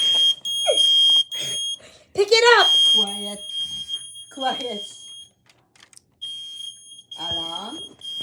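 A smoke detector beeps in loud, piercing bursts that start and stop while shelves are being stocked, cutting in and out between people talking nearby.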